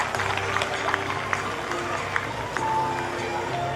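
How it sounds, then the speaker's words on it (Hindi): Audience applause at a school annual function for first-class children, a steady moderate wash of clapping with occasional sharper claps and a voice talking over it. "अब तो तालियां बजा दीजिए"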